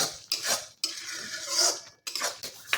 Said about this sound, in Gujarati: તો આપણે અહીંયા બધું આ રીતે હલાવીને મિક્સ કરી લઈશું